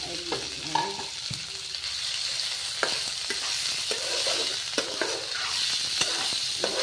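Gentle sizzling of chicken momo filling frying in a stainless steel pan, with a utensil stirring and scraping against the metal now and then.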